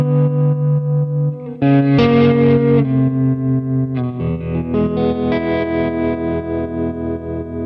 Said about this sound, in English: play long notes so you can hear the actual tremolo doing its thing.